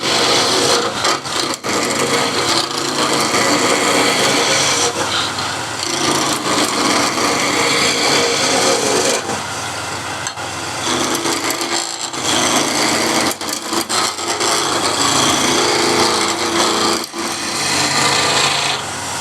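Skew chisel, 1/2 or 3/4 inch, truing a thin wooden spindle turning on a lathe, giving a loud, continuous scraping rasp with brief pauses between passes and no talking.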